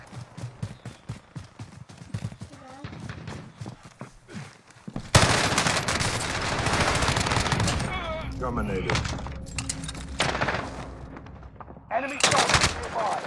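Rapid bursts of automatic gunfire and single shots crack in a Call of Duty Warzone 2.0 match, shifting from scattered distant pops to a dense, loud barrage, with players talking over the action.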